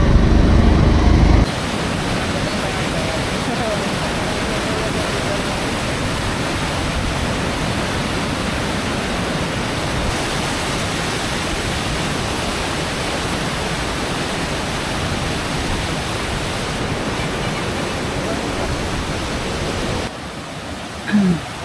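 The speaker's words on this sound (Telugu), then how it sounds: "కాలాపూర్ చెరువు మచ్చడి పడ్డది దాని విజువల్స్ ఇవి ప్రళయం ప్రళయం సృష్టిస్తుంది" Floodwater from a lake overtopping its bank during a cyclone roars in a steady, loud broadband rush that fills the scene from start to finish, with a brief pause at the very end.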